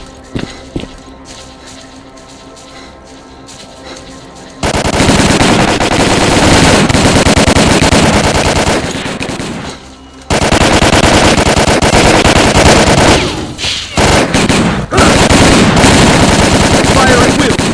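Heavy automatic gunfire from the Stalker: Call of Pripyat video game erupts after a quieter start, with loud sustained bursts, a brief pause and more bursts.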